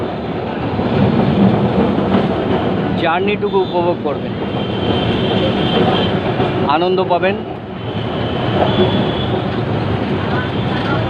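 A Kolkata tram running on its rails toward Gariahat, a steady loud rumble and rattle throughout with a few brief tonal squeals, while someone talks over it.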